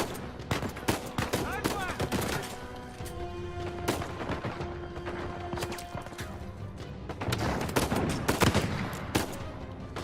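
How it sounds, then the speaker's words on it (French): Gunfire from a weapon in the video game Uncharted 4 cracks out in dense, sharp bursts and single shots, loud and close over game noise, with someone talking through much of it. "Ah 2 balles dans le vide, il n'a que 5 balles."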